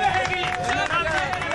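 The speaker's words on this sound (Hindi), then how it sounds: "तालियां बज रही, तालियां बज रही।" Audience clapping and crowd noise on a Pakistani comedy stage show, steady and fairly loud over the whole short stretch, blended with murmuring voices.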